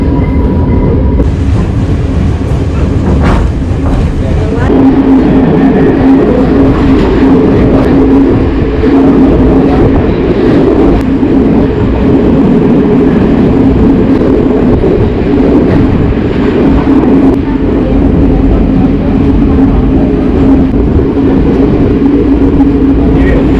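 A train rolls past in a dense, continuous rumble with a steady hum and faint rhythmic clatter, loud and close throughout, with no voices.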